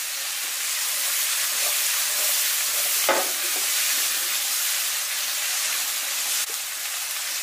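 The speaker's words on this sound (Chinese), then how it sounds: "然后继续给它翻炒均匀，炒至食材断生" Diced cucumber and green pepper hiss loudly in a hot wok as they are stir-fried, a dense steady sizzle with a sharp scrape of the spatula near the middle.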